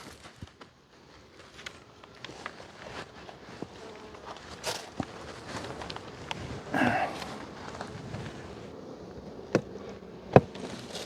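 Honeybees hum at a low level around open hives in a bee yard, a steady soft drone with occasional knocks and handling sounds of frames and boxes.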